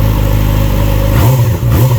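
A 2017 Yamaha YZF-R6 with a TOCE exhaust, very loud and close, holds a steady buzzing tone, then jumps into a sharp rev that climbs and dips twice.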